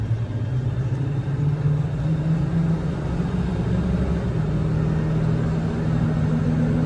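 A Ford F550 4x4 bucket truck with a 6.7 Powerstroke turbo diesel drives along a service road, its engine a steady low rumble with a droning tone that holds even throughout, heard from inside the cab with no talking.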